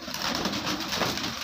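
Pigeons at an Indian pigeon farm coo and call steadily and fairly close, a continuous soft murmur of many birds filling the clip with no talk.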